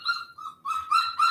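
A dog whining in a crate, with several high, thin whimpers in quick succession, close and fairly loud, with no talking over them.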